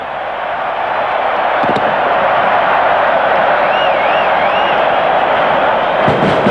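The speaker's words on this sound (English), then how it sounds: "And the crowd go mad." A packed stadium crowd roars after a Wally Lewis try for Queensland in a rugby league match, one loud, unbroken wall of cheering that holds steady for the whole stretch.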